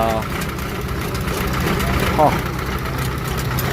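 A Farmall 706 diesel tractor idles with a steady low rumble, heard under someone talking nearby.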